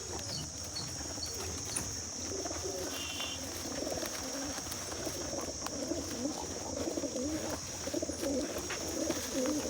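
Pigeons coo softly and repeatedly at close range, a low steady burble with a faint constant hum in the background.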